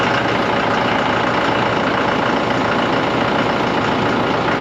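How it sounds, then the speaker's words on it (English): A farm tractor idles on a cold morning while warming up, its steady low engine rumble continuing unchanged and close by throughout, with no voices over it. "it won't hurt to let this tractor warm up a little while before we have to use it"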